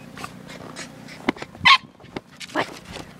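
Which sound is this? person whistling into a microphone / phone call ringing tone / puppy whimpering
puppy whimpering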